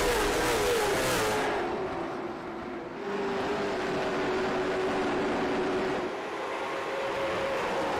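Race cars at Langley Speedway in iRacing drone past in a pack, a dense engine roar with a sustained tonal whine that dips briefly, then builds again, loud and steady with no talking.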